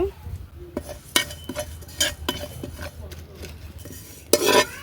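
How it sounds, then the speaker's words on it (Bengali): Panch phoron spices crackle lightly in a pan for a sweet-sour jujube pickle, broken by sharp metal clinks and scrapes of a spatula stirring, close and fairly quiet with a louder scrape at the end. "পাঁচ ফোড়নগুলো হচ্ছে হালকা করে ভেজে নেব"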